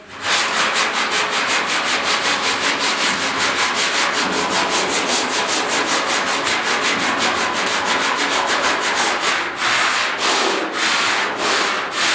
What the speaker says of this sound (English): gonna get it close with the 40 grit, and then I'm gonna finish it with 80